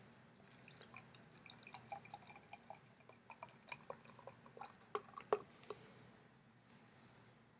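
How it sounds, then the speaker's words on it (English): Avery Maharaja beer is poured into a glass, heard as faint, close trickling with irregular drips and small crackles of foam. "Let's go ahead and get this one pour."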